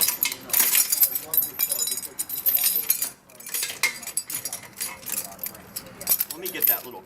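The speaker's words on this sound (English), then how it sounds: "I'm going to set these keys back." Metal keys at a 2015 Shasta Airflyte camper jangle and clink repeatedly in bursts, close and bright, with short pauses between rattles.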